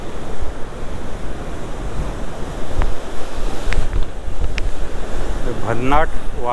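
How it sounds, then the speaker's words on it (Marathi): Sea waves and wind at a Konkan beach picnic point near Kasheli Devghali, loud and continuous rushing surf with gusty wind buffeting the microphone, and a brief human sound near the end. "वारा आहे आणि समुद्राचा गाज पण तुम्ही इथे मस्त ऐकू शकता."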